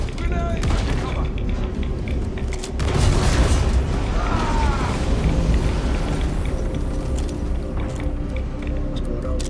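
Gunfire and a heavy grenade blast from the video game Star Citizen roll together, a dense boom swelling midway over constant rumbling combat noise and scattered shots.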